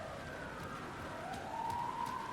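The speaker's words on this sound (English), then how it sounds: "Siren's kind of freaking me the fuck out, though." A police siren in the video game Alan Wake 2, a faint distant wail that rises and falls steadily over a low ambient rumble, with no one talking.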